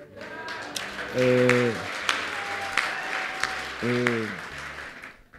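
Church congregation applauding, a steady wash of clapping with sharp individual claps standing out, while a voice speaks and calls out over the top in two bursts.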